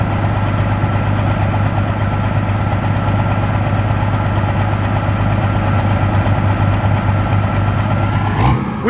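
A garden tractor engine runs loudly and steadily at a tractor show in Wisconsin, with a close, continuous rumbling drone that holds throughout and shifts briefly near the end.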